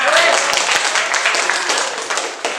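Classroom applause from students after a group presentation on Hooke's law, a brief, dense patter of clapping that tapers off toward the end.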